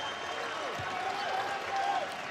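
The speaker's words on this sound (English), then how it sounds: "Maryland crowd here in Orlando getting louder." A basketball crowd cheers and applauds in an arena in Orlando, a steady, moderate wash of clapping and crowd noise heard from a distance under courtside ambience.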